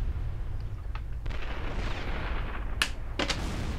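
Explosions and gunfire sound in the World War II shooter game Sniper Elite V2: a dull rumbling roar underlies a few sharp cracking bursts, the loudest near the end, all fairly loud and with no voices.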